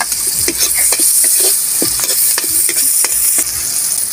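Garlic, onion and ginger sauté in margarine in a pan for pork adobo, a loud bright sizzle with quick repeated stirring scrapes throughout, close up and without speech.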